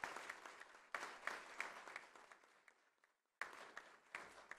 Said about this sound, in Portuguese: Eu acho que essas palmas são um pouco sem vergonha